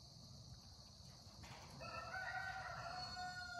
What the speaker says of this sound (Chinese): 瞧，听着公鸡打鸣的声音。